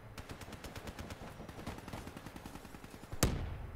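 Rapid automatic gunfire from a light machine gun in the shooter Black Ops 3, steady bursts of close shots throughout, ending in a louder nearby blast.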